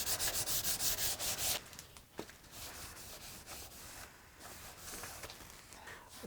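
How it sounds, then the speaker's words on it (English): Wood rubbed with a hand sanding pad, a close scratchy rhythmic scrubbing that is strongest at first, then continues lighter and more intermittent. "And now with the sanding pad, I'll just kind of blend things a little bit."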